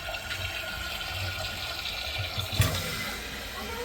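Water trickles and hisses into a toilet tank refilling after a plumbing repair with a Fluidmaster fill valve, a steady close-up flow with a brief clunk partway through.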